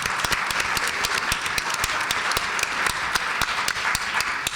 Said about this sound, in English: So let's give Bennett a special big round of applause.